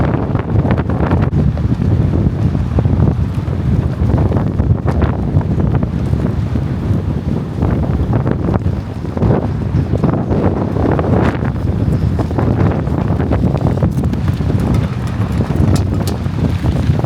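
Extreme windstorm battering construction sites in Philadelphia, a loud, continuous roar of wind buffeting the microphone with gusty surges throughout, no speech.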